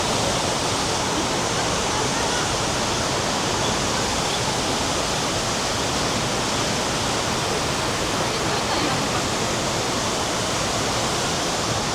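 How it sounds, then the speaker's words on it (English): Tegenungan Waterfall in Ubud, Bali roars as a loud, steady, broadband rush of falling water, close and unbroken for twelve seconds with no voices. "It's actually a nice waterfall."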